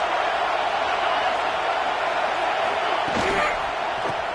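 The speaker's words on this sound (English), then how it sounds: "The roar of the crowd trying to fuel this defense to keep them pinned in their own end" Sustained roar of a large stadium crowd at an Ohio State versus Northwestern college football game, a dense, steady wall of cheering with a louder swell and a sharp thump near the end.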